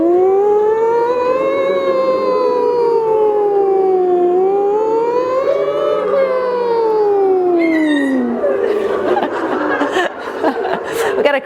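Group of voices imitating a fire engine siren, sliding up and down together in long wavering swoops, then breaking into laughter and chatter near the end.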